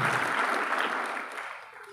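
A church congregation applauds during a sermon, a dense, steady wash of many hands clapping together that gradually thins and fades toward the end.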